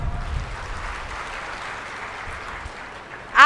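An audience claps in a hall, a moderate, even patter of many hands that carries on for a few seconds before a loud voice breaks in at the very end.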